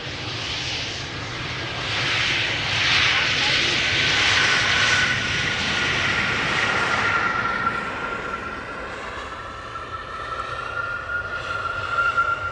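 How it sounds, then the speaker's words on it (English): A Delta Airlines A350 jet arriving at Amsterdam Schiphol Airport roars steadily overhead, a broad engine rumble that swells, holds, then slowly fades into a lower fading drone. "The only A350 of the show coming in, Delta Airlines Flight 74, arriving from Atlanta, Georgia."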